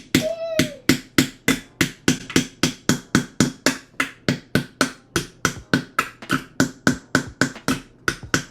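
Hammer strikes driving into a pumpkin during family carving, about thirty sharp, evenly spaced blows repeating steadily and close, with no talk.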